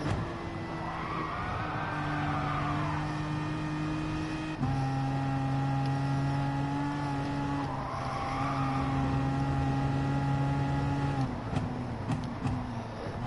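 A racing car engine in the Gran Turismo Sport video game, loud and sustained, with rising revs, upshifts and the whine of acceleration and no voices.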